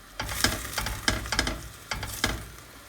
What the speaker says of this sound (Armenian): լավ խառնում ենք։